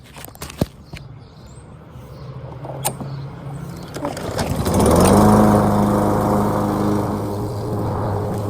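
Lawn mower in a yard: after a few light knocks and handling sounds, the engine starts up around midway and runs steadily with a loud, close drone, no speech.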